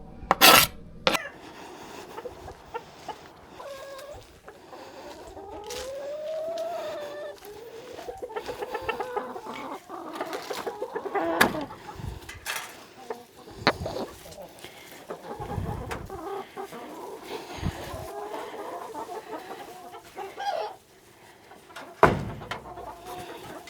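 Chickens cluck and murmur around a chicken pen, close and continuous, with a few sharp clatters and rustles mixed in.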